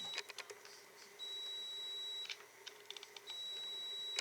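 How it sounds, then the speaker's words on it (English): A coffee maker sounds two long, high electronic beeps, preceded by short quieter chirps and light tapping in a quiet room. "That's my coffee pot, guys. It's turning on. That's the alarm on it."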